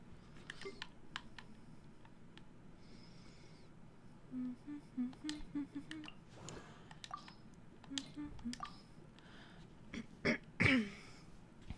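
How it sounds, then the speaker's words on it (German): A man repeatedly clears his throat, short rough bursts scattered over several seconds, close to the microphone, with faint keyboard clicks in the background. "Mann, ich muss mich die ganze Zeit räuspern."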